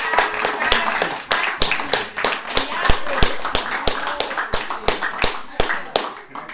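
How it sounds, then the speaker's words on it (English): A few people clap at a community dinner, with sharp, uneven hand claps in a loose rhythm and chatter and voices carrying on underneath. "I just wanna clap"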